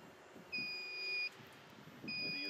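A water level dip probe lowered into a groundwater well emits two sustained high-pitched beeps, each lasting under a second, separated by a short gap, clear against faint outdoor background noise.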